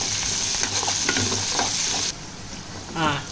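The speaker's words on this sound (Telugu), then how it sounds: "అలాగే ఎల్లుల్లిపాయలు, అల్లము బాగా ఎగుతాయి ఆయిల్లో" Garlic and ginger frying in oil for a prawn curry, a loud, close, continuous sizzle with stirring scrapes, dropping in level partway through before rising again.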